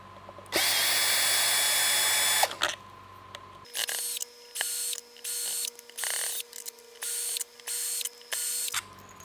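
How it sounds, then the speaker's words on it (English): A screw gun whirs loudly in one long run, then in a series of short, evenly spaced bursts, removing pickup screws from a Fender bass guitar, close up with no talk. "Probably do this a little faster with my screw gun."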